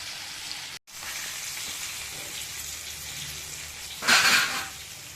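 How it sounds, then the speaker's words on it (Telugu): Chicken frying in oil and being turned over, a steady close sizzle throughout with a brief break near the start and a louder burst of spattering toward the end. "ఇట్లా కాల్చుకోండి, మొత్తం తిప్పి తిప్పి కాల్చుకోండి"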